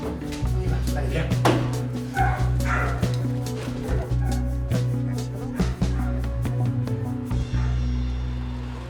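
Several Belgian Malinois shut in a dark, poorly ventilated cellar bark and yip repeatedly and loudly, with echoing overlapping barks and whimpers under a constant low hum, and people talk over them.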